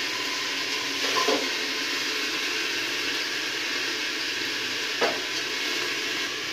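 Mixed vegetable sabzi cooks in a pan over a high flame, giving a steady, even sizzle and hiss with a couple of faint brief knocks, no talking.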